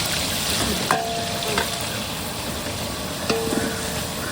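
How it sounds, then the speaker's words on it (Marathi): Onion frying in a pan for a festival-style chicken sukka, a steady close sizzle and crackle running throughout, with a few brief clinks of a utensil stirring against the pan. "कांदा भाजून घ्यायचा"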